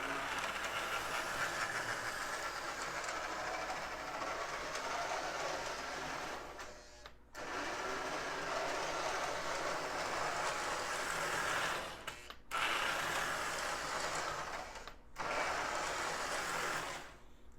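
A Lionel switcher model train locomotive runs along its track on test, giving a steady, close motor whir and rolling hum that drops out briefly a few times before resuming, with no talking.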